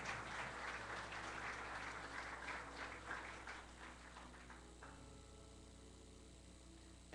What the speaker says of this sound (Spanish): Dale fuerte el aplauso a Él.